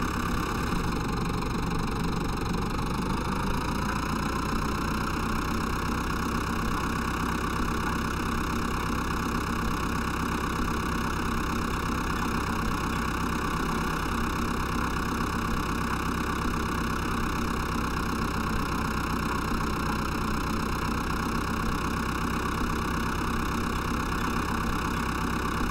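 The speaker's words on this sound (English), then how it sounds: "I'm just impressed how pro that tractor Peter's got looks." A tractor engine idles in the video game Farming Simulator 2011, a constant loud mechanical drone with a steady tone that runs unbroken from start to finish.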